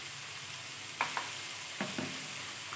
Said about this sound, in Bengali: হলুদ গুঁড়ো জিরে গুঁড়ো আদা গুঁড়ো দিয়ে দেবেন এখন একটু নেড়ে চেড়ে ভেজে নেব